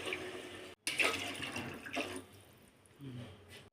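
About two glasses of water poured into a cooking pot over potatoes and carrots with spices for aloo biryani, a soft splashing pour interrupted by a short gap, fairly faint and close.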